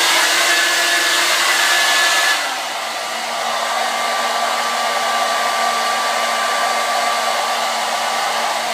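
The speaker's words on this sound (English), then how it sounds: "now I go back and finish blow drying my mustache" A hair dryer blows steadily up close while drying a moustache, a loud continuous whir that drops slightly in pitch and force a couple of seconds in, then holds level to the end.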